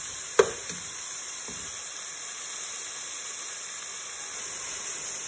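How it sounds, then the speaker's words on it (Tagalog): Kalabasa squash sautéing in a pan gives a steady, even sizzle and hiss throughout, with a sharp clack near the start and a couple of light knocks after it, close by with no talk. "Tapos, inuuna ko yung kalabasa na igisa."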